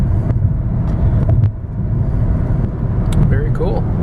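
A 2008 Honda Civic Hybrid rolls downhill, filling the cabin with a steady low road rumble and engine drone that dips briefly about midway through. A voice may be faintly present.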